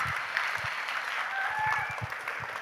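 Audience applause for teachers at an inter-school elocution contest, a soft, steady wash of clapping heard from some distance, with faint murmuring and low thumps underneath.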